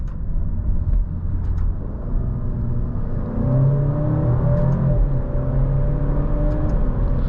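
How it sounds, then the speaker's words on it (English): Alfa Romeo Giulia Veloce with a 2-liter four-cylinder pulling steadily under load, engine drone rising and settling as the ZF 8-speed automatic moves up through the gears, a continuous close rumble with no voices. "going through the gears is pretty quick with a ZF 8-speed, and it sounds pretty good too"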